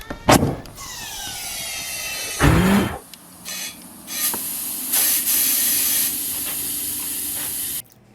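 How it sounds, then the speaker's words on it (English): Air hissing from a bad valve stem on a tire that is being seated with fire and an air compressor. Loud bursts of spray-like hiss come with a steadier hiss and a few clunks, close up, with no talk. "That sound you hear is a bad valve stem."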